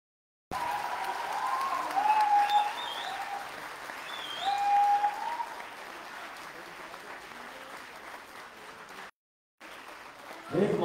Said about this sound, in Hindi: आप लोग इनके लिए जोर से तालियां बजाएंगे।